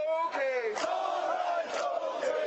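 A crowd of Iraq war veteran protesters marching through Denver during the 2008 Democratic National Convention chants and shouts in loud, sustained voices.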